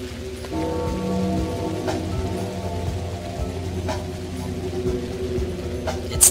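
Steady rain patters down in the video game Pathologic Classic HD, a constant close drizzle over a low tonal hum of ambience.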